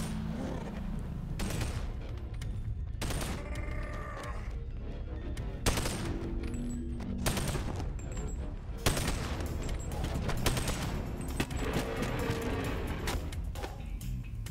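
Sustained gunfire in the Boneworks VR game, Nullmen enemies shooting in rapid overlapping bursts and bangs that sound loud and close and run almost continuously across the clip with no talking.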